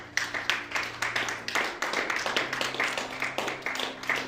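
A church congregation clapping together during a worship service, a steady rhythmic beat of many hands, loud and close, with voices calling out faintly underneath.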